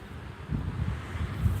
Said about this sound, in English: it's a little bit too windy